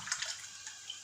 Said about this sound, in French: Et je vais verser tout de suite l'eau.